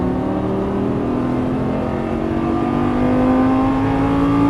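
A Lamborghini Gallardo LP550 accelerating hard on a race track, its engine note loud and close, climbing steadily in pitch without a break and with no voices over it.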